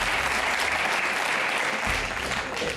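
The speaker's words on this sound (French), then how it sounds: "on l'applaudit s'il nous regarde" A television studio audience applauds in a short, dense burst of clapping that stays even and fairly loud, then eases slightly at the end.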